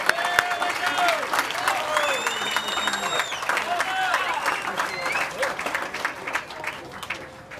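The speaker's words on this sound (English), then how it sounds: "One more round of applause for Uncle Wendell." Sustained applause from a crowd at an outdoor celebration of life at Ala Moana Beach Park fills the clip, steady clapping with some cheering voices mixed in, gradually tapering toward the end.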